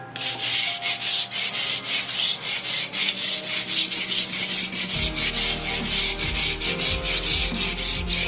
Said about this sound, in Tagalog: Napakadali niyang itanggal ang lumot guys